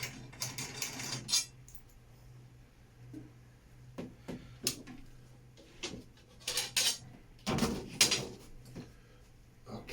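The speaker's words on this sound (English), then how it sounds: "I can start removing the drum lug nuts all the way around." Lug nuts come off a Mapex drum with sparse, quiet metallic clicks and light clinks, scattered irregularly and close by.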